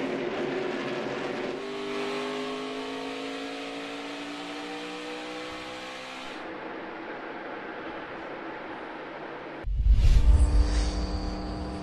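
NASCAR race cars roaring around ISM Raceway, a continuous loud engine drone with rising and falling pitch as cars pass, ending in a sharp, close burst of engine noise.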